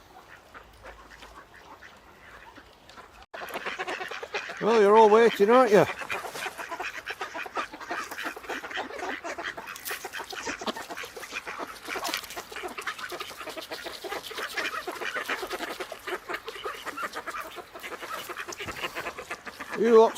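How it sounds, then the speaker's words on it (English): A crowd of ducks quacks and chatters by a river, a busy, continuous babble close at hand with a louder burst of calls near the start, while a person speaks briefly over them. "And a lot of waiting ducks."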